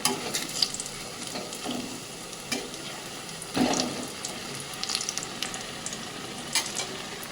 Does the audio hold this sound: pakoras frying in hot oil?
yes